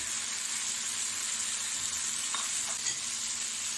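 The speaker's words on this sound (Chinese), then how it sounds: "稍微翻炒一下" Japanese egg tofu stir-fried in a wok gives a loud, constant close sizzle with a couple of soft clinks as it is turned near the end, and no one speaks.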